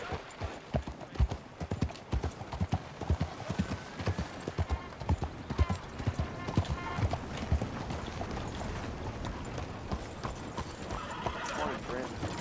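Horse hooves clip-clop steadily at a gallop in the video game Red Dead Redemption 2, with occasional neighs and whinnies, loud and close, while a person talks over the sound.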